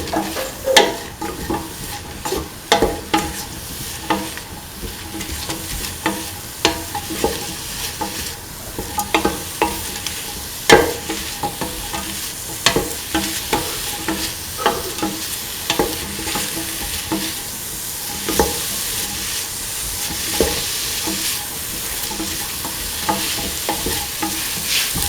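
Mixed spices stirring and frying in a hot pan for a chickpea, snake gourd and coconut milk rice dish, with steady sizzling and repeated scraping stir strokes throughout, close and fairly loud, no talk.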